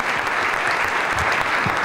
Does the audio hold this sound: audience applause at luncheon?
yes